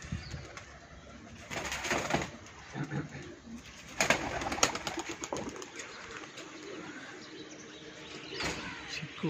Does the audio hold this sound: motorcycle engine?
no